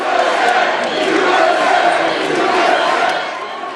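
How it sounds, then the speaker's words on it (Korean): Crowd of Republican supporters cheering an election win, a dense, steady roar of many voices filling the space throughout with no single sound standing out. "8년 만에 백악관을 되찾은 공화당은 환호했습니다."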